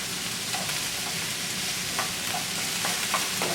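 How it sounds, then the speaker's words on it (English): Onions and garlic sauté in a hot frying pan for a cheesy hamburger casserole, a steady close sizzle with occasional scraping clinks as a utensil stirs them around, with no talking. "You can see how nice the onions are sauteing. Now I'll add in the garlic. Stir that around."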